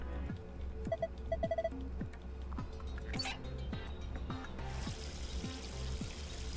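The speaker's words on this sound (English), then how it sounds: "There's dihydrogen monoxide coming out of the faucet." Water pouring from a sink faucet in the video game Virtue's Last Reward sets in partway through as a soft, steady rush, over quiet looping background music with a few small beeps.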